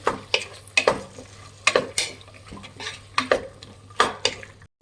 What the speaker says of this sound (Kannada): ಕ್ಯಾಪ್ಸಿಕಮ್ ಹಾಕ್ಕೊತಾ ಇದ್ದೀನಿ. ಮಿಕ್ಸ್ ಮಾಡಿ.